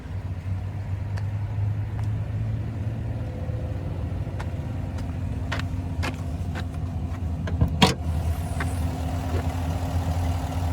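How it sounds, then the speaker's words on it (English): A 2022 GMC Yukon AT4's 5.3 liter V8 runs at a steady idle, close and constant, with a low engine hum and a few brief clicks and a sharper knock partway through. "And there's that V8 there."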